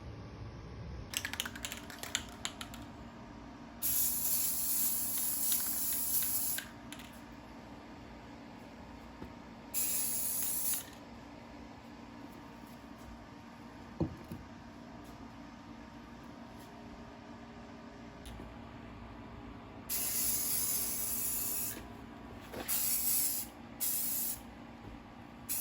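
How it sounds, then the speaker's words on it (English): A spray gun coats a Kaiser Darrin car frame from the top down in several loud, hissing bursts of a few seconds each, separated by quieter stretches with faint clicks and handling noises. "I'm just going to spray this from the top down"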